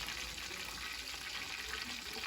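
Food fries in a pan on the side of a home kitchen stove, giving a faint, steady sizzling hiss with no pauses.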